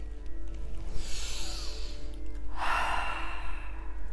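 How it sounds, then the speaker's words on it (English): Slow, deep breathing during a guided chakra meditation, with two soft airy exhalations, one early and one later, close to the microphone over a low steady hum. "Breathing in and out."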